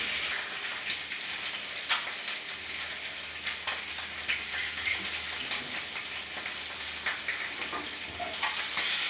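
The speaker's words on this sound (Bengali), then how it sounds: "ডিমগুলো আমি ভেজে নিচ্ছি" Duck eggs fry in a pan of hot oil, giving a steady, loud sizzle and crackle that runs without a break and with no voices.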